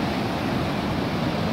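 Sea waves wash onto a beach after sunset, a steady, full-bodied roar of surf with a windy hiss that stays constant and close throughout, with no voices.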